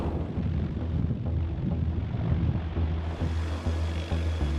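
A Sikorsky CH-53K King Stallion heavy-lift cargo helicopter produces a deep, continuous rumble with a throbbing low-end rotor beat, close and fairly loud, with no voices.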